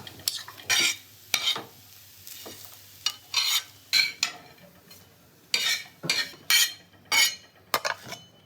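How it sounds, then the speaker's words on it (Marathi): Vegetables shallow frying in a pan sizzle softly while a utensil stirs them in a string of sharp, close scraping strokes about every half second, with short quiet gaps between strokes. "मग ते तर शॅलो फ्राय करते ना"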